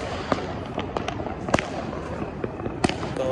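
Diwali firecrackers set off by neighbours at dusk sound as scattered sharp pops and cracks, some near and some farther off, over a steady outdoor background.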